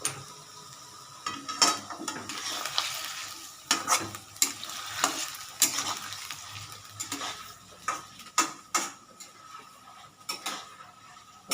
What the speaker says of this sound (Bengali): বরবটি যেগুলো কেটে রেখেছি সেগুলো দিয়ে দিচ্ছি এই দেখো এগুলো ঢেলে দিলাম একসাথে এটা সেদ্ধ হতে থাকুক